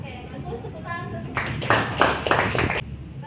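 A classroom of students claps together in a short, loose burst of applause lasting a couple of seconds, following a teacher speaking.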